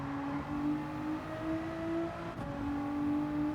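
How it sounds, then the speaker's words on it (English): Race car engine in Gran Turismo 7 hums with a steady drone and a high, thin turbo whine rising and falling, moderately loud and continuous with no talk. "You can hear the turbo actually."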